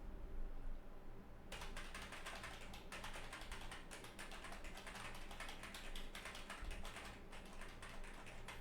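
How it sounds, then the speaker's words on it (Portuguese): Rapid typing on a semi-mechanical computer keyboard starts after a short quiet moment, a dense run of clacking keystrokes close by in an office, continuing steadily to the end. "Meu teclado não é mecânico, é semi-mecânico,"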